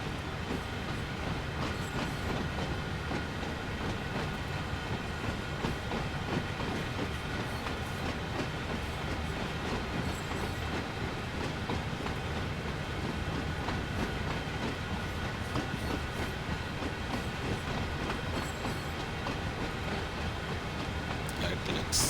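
SD70ACE locomotive running in the Train Sim World 4 game, a continuous loud rumble with rhythmic clickety-clack of wheels and occasional faint squeals, steady throughout.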